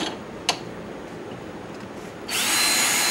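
A drum sanding wheel with coarse 60-grit abrasive, used for rough shaping of knife scales, spins up near the end after a quiet stretch and holds a loud, steady, hissing whine.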